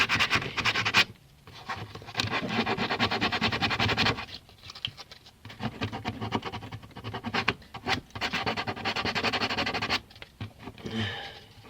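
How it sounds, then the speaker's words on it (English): Hand sanding the edges of a broken plastic car headlight: close, continuous scratchy rasping strokes in bursts with brief pauses, moderately quiet with no talk. "just going to take those edges off there. Just give it a little sand"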